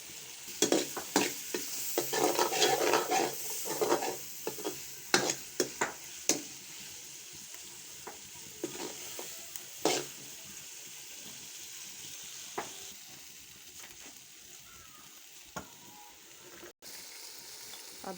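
Green chilies and capsicum sizzle in a pan with garlic paste while being stirred for an aloo gobhi dish; spatula scrapes and knocks land in irregular bursts over a constant frying hiss.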